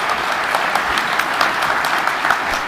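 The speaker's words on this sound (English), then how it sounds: "Let us give the President a round of applause." An audience applauding the President at a national ICT event, dense steady clapping from a large crowd, loud and close, with no voices over it.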